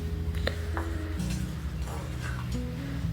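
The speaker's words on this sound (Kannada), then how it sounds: "ಸಾಲ್ಟ್ ಹಾಕಿದ್ಮೇಲೆ ಮಿಕ್ಸ್ ಮಾಡ್ತಿದ್ದೇನೆ" Chicken sukka is stirred in a pan after salt goes in, with a spoon scraping and clinking against the metal in irregular strokes, close and moderately loud, over a low background hum.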